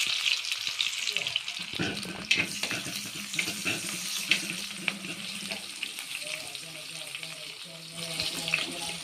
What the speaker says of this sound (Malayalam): ഈ വെളുത്തുള്ളി ഇല്ലേ അത് ചതച്ചിട്ട് കേട്ടോ കുറച്ച് ചതച്ചിട്ട് ഇട്ട് കൊടുത്താൽ മതി